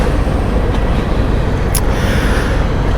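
Road traffic backed up and passing a motorcyclist, a loud continuous roar of vehicles with wind noise that holds steady throughout, no speech.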